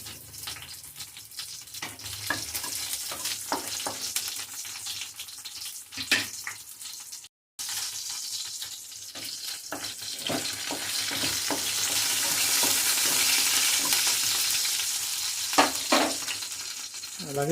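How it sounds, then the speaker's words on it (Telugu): Garlic, dried red chili, cumin, mustard seeds and urad dal sizzling in hot oil for coriander rasam, with scattered spoon scrapes and crackling over a rising hiss, briefly interrupted partway. "అలాగే ఆయిల్ మరిగిందండి. దాంట్లోని ఈ వెల్లుల్లి, ఎండుమిర్చి, జీలకర్ర, ఆవాలు, మినపప్పు ఇవన్నీ వేసి కాస్త వేద్దాం."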